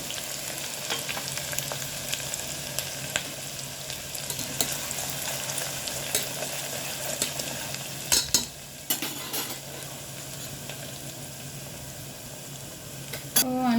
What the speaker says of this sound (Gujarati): હવે નાખીશું આપેલી એક મીડિયમ સાઈઝની ડુંગળી